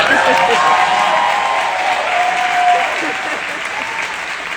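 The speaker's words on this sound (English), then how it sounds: "give my wife a round of applause" Crowd applause and cheering at a 2024 EXP agent event in Cabo, honouring the speaker's wife; loud continuous clapping with whoops and voices mixed in, easing slightly toward the end.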